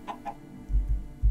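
Chickens in the Minecraft survival game give two short clucks, followed by low thumping blocky sounds, heard alone with no talk.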